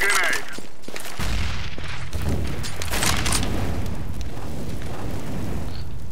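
In Counter-Strike: Global Offensive, a grenade blast and bursts of gunfire ring out loud and close. The booming explosion is followed by sharp, rapid shots and echoing rumble across several seconds.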